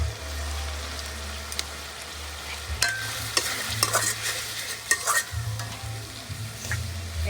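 Spices stirred and frying in hot oil for a thin country chicken curry, a steady sizzle with scraping stirs and clinks of the spoon coming in bursts, close and fairly loud, with no talk.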